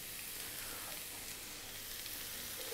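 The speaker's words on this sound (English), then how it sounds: "We're going to start off by dropping in onion, just a small onion," A small, finely cut onion fries in a pan with leftover chicken juices, giving a faint, even sizzle with soft crackle throughout and no talking.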